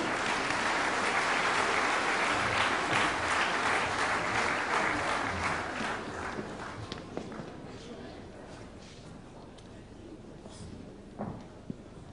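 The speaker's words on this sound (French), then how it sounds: "Je vous demande de les applaudir, la chorale Cœur emporté." Audience applauding a gospel choir at a New Year's greetings ceremony in Béthune, a broad sustained clapping that fills the room at first, then gradually thins and fades out with a few scattered claps near the end.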